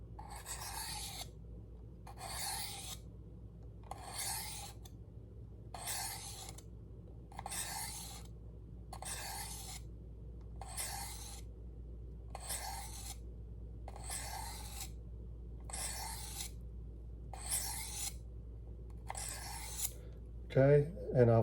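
Knife blade drawn across the ceramic rod of a Work Sharp Guided Field Sharpener, about a dozen evenly spaced rasping strokes in a steady rhythm, close and clear, with a brief clatter at the end.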